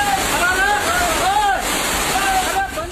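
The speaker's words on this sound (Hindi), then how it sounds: "पानी सड़कों पर कुछ इस तरह बह चला मानो किसी ने नदी की धार शहर की तरफ मोड़ दी हो" Floodwater rushes through city streets in hill areas after heavy monsoon rain, a loud continuous roar under a narrator's voice.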